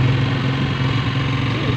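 A tricycle motor engine runs close by with a loud, steady droning hum through the short stretch, and no one speaks.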